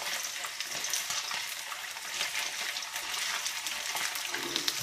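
Battered chicken pieces for General Tso's chicken frying in hot oil in a pan, a steady, bright crackling sizzle with small pops, close and even throughout, with no talking.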